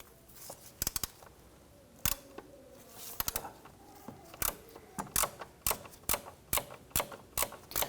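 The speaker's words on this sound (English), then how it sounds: "We're gonna use our deep socket and a swivel head ratchet. We wanna go ahead and get in there and loosen and remove that bolt." A swivel head ratchet with a deep socket works a 12mm bolt loose on the engine's knock sensor of a 2017-2020 Hyundai Elantra 2.0L, giving sharp, close metallic clicks in uneven bursts that turn into a steady run of ticks.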